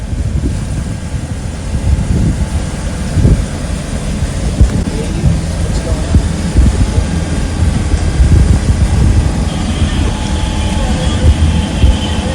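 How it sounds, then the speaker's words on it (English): A sailboat's inboard engine drives the boat along at about 7.5 knots over glassy calm water, producing a loud, steady, low rumbling drone close by that continues unbroken throughout. "I don't know if you can hear me over the engine"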